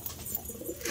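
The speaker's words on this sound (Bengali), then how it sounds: "দেখো পায়রাগুলো" Pigeons in a pigeon house coo softly, a few low, faint, rounded calls heard close by amid quiet background, with no talking.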